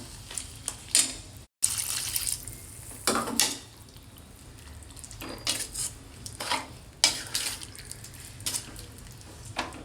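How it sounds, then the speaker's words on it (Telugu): Water added to a bottle gourd curry in a cooking pot, then stirred, with scattered clinks and scrapes of a spoon against the metal pan and a soft splash, close and intermittent. "కొంచెం నీళ్లు పోసుకుందాం."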